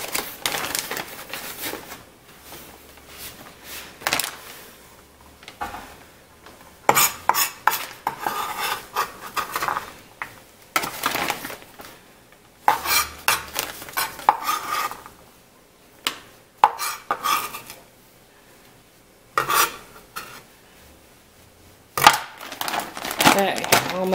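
Sliced onion and carrots tumbling into a crockpot, with repeated clattery bursts of vegetable pieces hitting the ceramic pot and utensil clinks, separated by quieter gaps.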